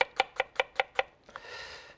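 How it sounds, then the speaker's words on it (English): A knife chops onion finely on a cutting board for a gazpacho garnish, six crisp, evenly spaced close knocks followed by softer scraping and brushing. "So I want to cut it coarsely. Oh, I mean finely, rather."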